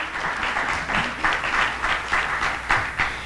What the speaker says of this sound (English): oh yeah, go ahead and clap